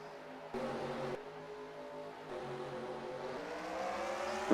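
Race cars accelerating at the green flag of a Miami oval race, several engine tones rising in pitch together as the pack builds speed, with a louder surge near the end.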